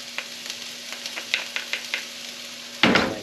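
Crushed garlic dropping into a hot pan, a string of light taps followed by a sudden burst of sizzling frying at the end, with a steady faint hum underneath.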